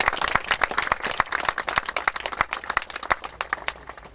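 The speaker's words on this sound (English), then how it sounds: "I would ask you to give a big round of applause to Carmel Fitzgibbon and her husband." A crowd at a ten-year celebration of the Garden of Europe gives a round of applause: sharp, distinct handclaps in a fast, uneven patter that stays loud and close throughout.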